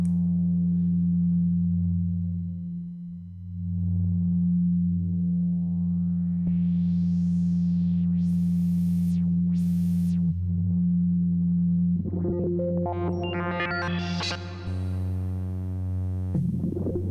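An Arturia synthesizer produces weird, sustained electronic tones, a low steady drone with sweeping, gliding pitches layered over it, ending in buzzy, bright bursts, close and solo with no talking.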